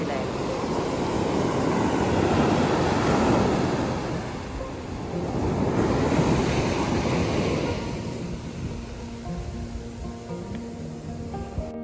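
Sea waves wash onto the shore in two broad swells of roaring surf, loud and close, mixed with wind buffeting the microphone and easing toward the end.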